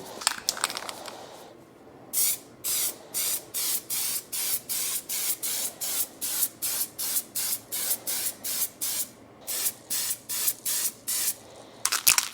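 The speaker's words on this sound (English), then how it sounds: "Then we have the textured bumper spray." Rapid, rhythmic bursts of textured bumper spray paint from an aerosol can, over twenty short hissing pulses with brief gaps, close to the can and heard alone.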